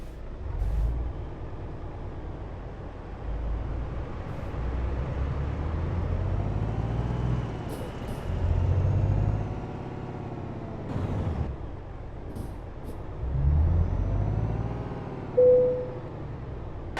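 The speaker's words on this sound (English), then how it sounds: "I guess what I'll just do is detach the trailer" A trucking video game with an engine rumbling low and steady while the trailer is detached, with a couple of hissing air bursts partway through.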